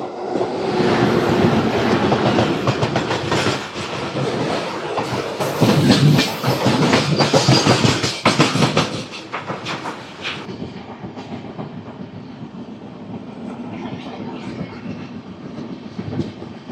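Gowthami Superfast Express, train 12738 from Lingampalli to Kakinada Port, cruises at about 40–50 km/h with a loud, steady clickety-clack rumble that eases to a softer rolling hum toward the end.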